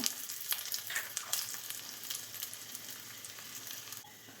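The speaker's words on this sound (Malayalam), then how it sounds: "ചീനച്ചട്ടിയിൽ വെളിച്ചെണ്ണ ഒഴിച്ച് 1 ടീസ്പൂൺ വെളിച്ചെണ്ണ ഒഴിച്ച് കൊടുത്തിട്ടുണ്ട്. അതിലേക്ക് ചെറിയ ഉള്ളിയാണ് കട്ട് ചെയ്തെടുത്തിട്ടുള്ളതാണ്, അതിട്ട് കൊടുക്കുന്നുണ്ട്." Chopped shallots and dried red chilies fry in a teaspoon of coconut oil in a small pan. A crackling, spitting sizzle with frequent sharp pops sounds close by and alone, and it settles slightly toward the end.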